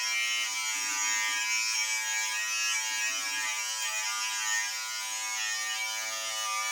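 A cheap electric beard trimmer buzzes with a steady, close, high-pitched whine while shaving legs, its drone shifting slightly as it moves over the skin.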